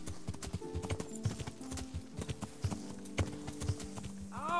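Horse hooves clip-clop steadily in the video game Kingdom Come Deliverance, a regular walking rhythm of moderately loud hoofbeats with a faint background bed throughout.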